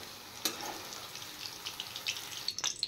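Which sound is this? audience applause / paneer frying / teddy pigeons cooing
paneer frying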